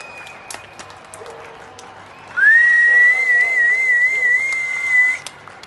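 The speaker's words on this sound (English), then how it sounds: "citizens took to their balconies and windows to applaud the medical" Citizens on balconies and windows in Israel applaud medical professionals, with a long, loud whistle rising over distant clapping and crowd noise that swells midway and fades after a few seconds.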